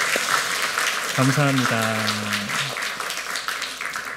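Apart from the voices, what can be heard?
congregation applauding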